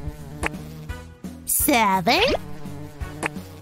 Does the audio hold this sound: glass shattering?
no